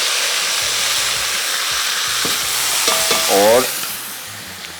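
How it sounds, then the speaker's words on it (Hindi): Marinated meat frying in a pot for Hyderabadi dum biryani, a loud steady sizzle close up with stirring and scraping of a spoon against the pot, and a brief spoken word. "अब इसकी हम करेंगे थोड़ी सी भुनाई पहले।"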